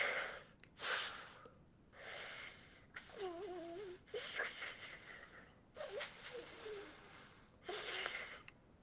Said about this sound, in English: I'm doing inhale articulations and exhale